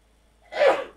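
A single sneeze bursts out close by after a moment of quiet, sharp at onset and then trailing off, during a trivia quiz.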